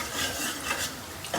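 Onion masala frying in a pan gives a steady close sizzle, with stirring scrapes of a spoon rising and falling in short strokes.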